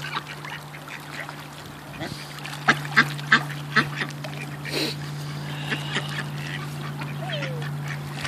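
Ducks at a park pond being fed bread give a handful of short, sharp quacks in a quick series, heard over a steady background hum, with faint outdoor noise around them.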